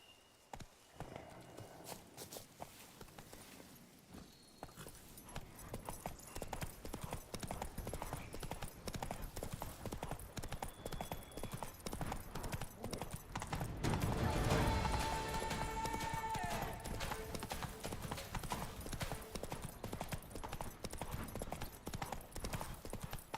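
Horse hooves clop in The Witcher 3 as the mount sets off, a fast continuous drumming rhythm that swells midway alongside game ambience.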